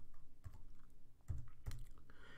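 Computer keyboard typing, ending with the enter key struck, comes through as a few soft, faint key clicks over low room hum.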